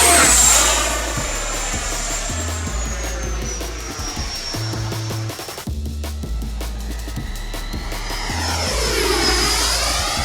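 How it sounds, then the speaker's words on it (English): An FMS 80mm F-86 Sabre foam RC jet flies past, its ducted-fan whine loud and sustained, sweeping down in pitch as it passes and rising again as it returns near the end, with backing music underneath. "FMS just released their newest RC jet, the 80mm F-86 Sabre."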